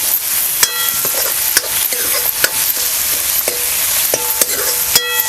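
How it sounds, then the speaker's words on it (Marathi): Onion and tomato sauté for chicken gravy on a wood-fired clay stove, a loud continuous sizzle punctuated by sharp metallic clinks of a ladle striking the pan roughly every second. "आपण कांदा टमॅटो वगैरे चांगलं असं परतून घेतलं ना म्हणजे आपली ग्रेव्हीसुद्धा चांगलं असं तयार होते"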